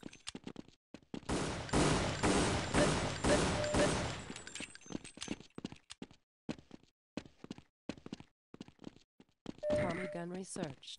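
Laser weapons fire in a video game as a dense, rapid burst of shots lasting a few seconds. Scattered clicks and softer impacts follow.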